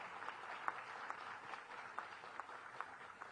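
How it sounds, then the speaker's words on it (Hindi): Audience applause at a three-day film festival in Delhi, faint and distant, a steady wash of many hands with a few sharper claps standing out. "एक बार चाहूंगी जोरदार तालियों से हम सभी उनका स्वागत करें"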